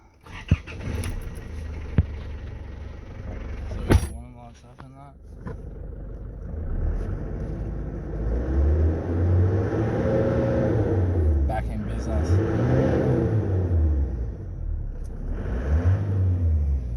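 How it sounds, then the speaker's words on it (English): A 3.0-litre 4JH1-TC turbo diesel in an Isuzu Rodeo, air filter off and suffering power loss, cranks and starts, then revs in several rising and falling surges over a rough idle, with someone talking briefly. "Just leave the air filter off for the time being and just start it up and see what it revs like"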